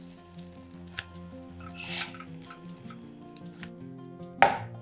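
Hot sandwiches on a sliced loaf fry in a pan with a faint, soft sizzle, broken by a few light clinks of utensils and one sharper clatter near the end.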